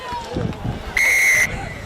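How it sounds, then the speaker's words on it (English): A referee's sharp whistle blast sounds at a rugby league first grade match, a single half-second tone rising over background crowd noise and nearby speech. "there you hear the whistle in the background"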